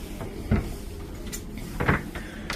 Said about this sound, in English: And here's a second closet.